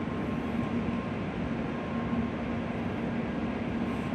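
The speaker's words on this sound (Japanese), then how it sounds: "今から走るこの列車は JR 九州の R11 編成、さくら560号。" Steady, loud rushing roar of a Sanyo Shinkansen bullet train moving at Okayama Station, continuous and broad with a faint tonal hum running underneath, no voices.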